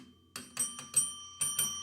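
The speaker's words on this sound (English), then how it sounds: "ring the bell" A bell rung during a Pearl Jam recap show, struck about six times in an uneven sequence of bright, ringing hits. It sounds close and moderately loud, with no talking.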